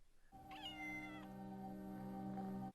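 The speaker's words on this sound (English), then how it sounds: "Oh, cute cat." A cat from Buffy the Vampire Slayer lets out one long, drawn-out meow with a rising, wavering pitch. It is loud and close, lasts over two seconds, and no one speaks.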